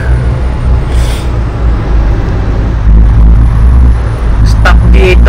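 A truck's exhaust brake in Truckers of Europe 3 gives a loud, close, deep engine drone that swells and deepens partway through, with short hissing bursts near the end.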